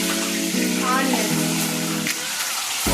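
Onions frying in oil with cloves, cinnamon and curry leaves for carrot rice, a steady close sizzle running throughout, with a brief stir or shift partway and a voice speaking over it.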